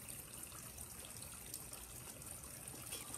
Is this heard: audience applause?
no